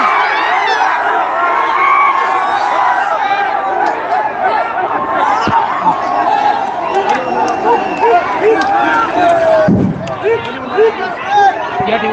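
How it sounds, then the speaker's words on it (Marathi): A dense crowd cheers and shouts behind police barricades, celebrating a state assembly election result in Sillod-Soygaon; loud, continuous massed voices and whoops with overlapping chatter hold steady throughout, dipping briefly near the end. "सध्या बॅरिकेड लावलेल्या पोलीस बंदोबस्तामध्ये हे जल्लोष या ठिकाणी दिसत आहे"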